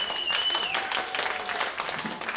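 Audience applause closing a concert of a composer's music, a dense steady wash of clapping filling the hall without a break, fairly loud and even, with faint traces of crowd noise beneath.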